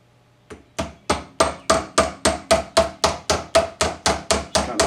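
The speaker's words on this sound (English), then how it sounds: "I'm going to take this hammer here. It's got plastic heads on it." A plastic-headed hammer taps a bearing held in a bench vise, about fourteen evenly spaced, fairly loud strikes in a steady rhythm, each a short dull knock that rings off briefly, with no talk.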